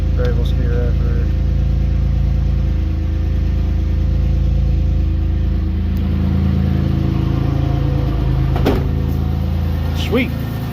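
A Pontiac Grand Prix with the 3800 engine running on a cold start after an alternator replacement, a steady low idle hum close by with a few faint clicks and a brief rise near the end.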